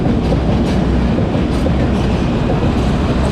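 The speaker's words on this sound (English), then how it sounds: "a train comes whizzing by" A London Underground District line train rushes past on the eastbound track near Chiswick Park, a loud, close, continuous roar of wheels and carriages with rhythmic clatter filling the whole moment.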